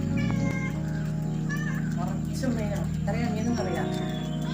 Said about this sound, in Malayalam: ഇത് പൂച്ച